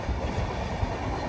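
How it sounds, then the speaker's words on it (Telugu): The Flying Ranee Express rolls steadily out of Mumbai, a dense, loud rumble of wheels and carriage noise with faint clicking and no voices. "మన ట్రైన్ కూడా మూవ్ అయిపోయింది"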